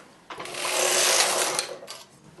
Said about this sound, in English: So we push the needles in, do one row and then back.